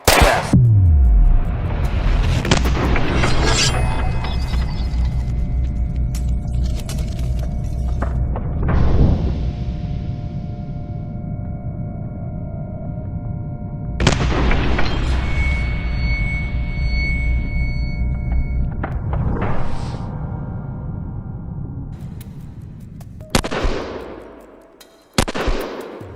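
Double-action pistol shots at a shooting range, a handful of loud, sharp cracks spaced several seconds apart with ringing echoes in between, heard alone.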